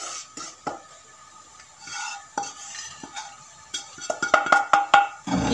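Cooked banana pudding mixture scraped and spooned from a pan into a serving dish, with clinks and scrapes of a utensil against cookware that turn louder and quicker toward the end.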